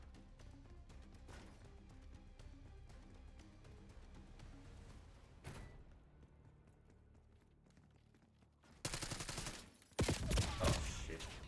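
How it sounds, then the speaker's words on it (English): Gunfire in the Call of Duty Black Ops 6 beta: a dense, continuous mix of game sounds and rapid shots running throughout, with sharp loud bursts near the end. "can you guys hear the gunshots or no?"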